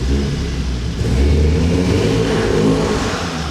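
VW Golf R engine held on launch control, revving hard in a loud, close, sustained rumbling roar with a slight rise partway through, no voices over it.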